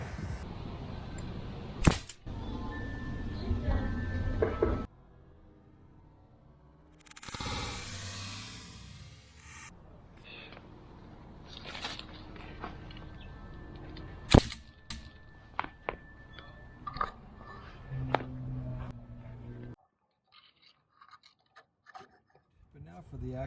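Sig MCX pellet rifle fired at flies outdoors: a few sharp, sudden shots spaced apart, with mechanical clicks and handling noise between them and people talking quietly in the background.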